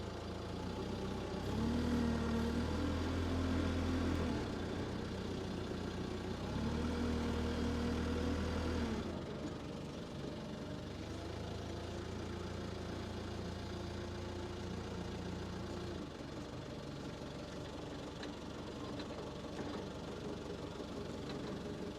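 A forklift engine runs steadily throughout, with two stretches of louder revving as the forklift maneuvers, then settles back into a lower idle-like drone.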